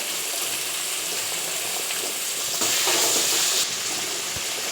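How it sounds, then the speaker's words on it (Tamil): Tomatoes sautéing with salt and garam masala for a potato kurma, a dense continuous sizzle and hiss close up, with occasional soft stirring knocks and no talk. "நல்லா வதக்கிக்கிறோம்"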